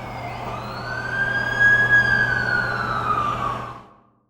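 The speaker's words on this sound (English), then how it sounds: "That's the ambulance I called." An ambulance siren in the video game The Amazing Spider-Man 2 wails in rising and falling sweeps over a steady low hum, holding loud and close before cutting off abruptly near the end.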